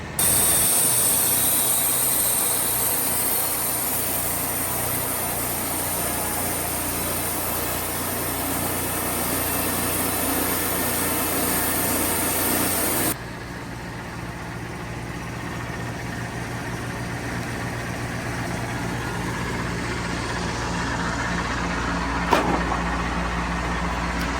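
A sawmill blade trims a big knot off a roughly 34-inch round log, giving a loud, steady machine roar with hissing cutting noise that drops to a lower, duller running hum about halfway through.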